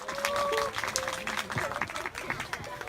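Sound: audience applause at an outdoor garden concert

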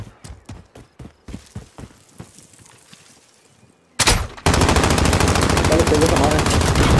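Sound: gunfire in a video game

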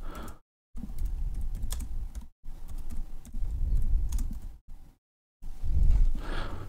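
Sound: typing on a computer keyboard

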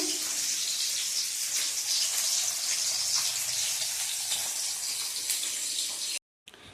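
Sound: food frying in a pan

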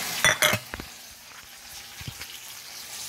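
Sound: onion and garlic frying in oil for paksiw

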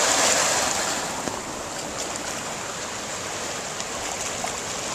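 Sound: waves in choppy bay

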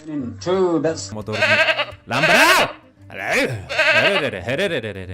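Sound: goat bleating in the video game Ranch Simulator

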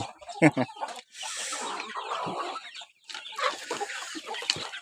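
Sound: chickens clucking at evening feeding

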